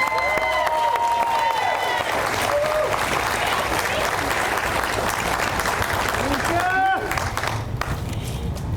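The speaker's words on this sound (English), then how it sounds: "let's give her a huge round of applause." An audience applauds at an Indigenous space dedication ceremony with a steady, dense round of clapping. Whoops and cheers rise above it and voices mix in, and the clapping thins slightly near the end.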